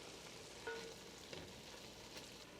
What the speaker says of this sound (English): go ahead and stir that up so it coats all of your spiced beef